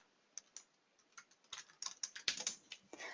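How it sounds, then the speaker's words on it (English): Keystrokes on a computer keyboard as a keyword search is typed, starting as sparse isolated taps and building into a denser, louder burst of clicks, close and alone with no talk. "We could go ahead and just type in graduation rate."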